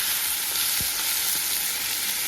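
Ivy gourd (kundri) curry put back into an oily kadai sizzles continuously up close, with a faint stir or scrape of the spatula partway through.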